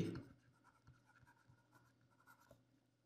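Pen writing on paper or a board while a civil engineering problem on embankment compaction by rammer is worked through, a soft scratchy stroke sound that starts louder then settles into quiet intermittent scratches.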